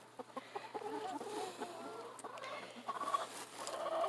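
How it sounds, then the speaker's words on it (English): A hen sits on her nest and clucks in scattered, soft bursts of short calls at close range, with quiet background noise between them. "There's a chicken on the nest."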